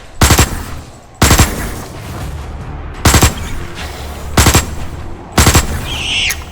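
Loud bursts of automatic gunfire from a weapon in the sci-fi survival game Osiris: New Dawn, five separate rapid volleys spaced roughly a second apart, each a dense crackling rattle, with no talking.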